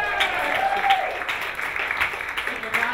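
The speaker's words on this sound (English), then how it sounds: "Give a round of applause for them and their poor choices" A comedy club audience at Caroline's applauds steadily for about three seconds, a dense wash of clapping with a few louder bursts, and faint voices mixed in underneath.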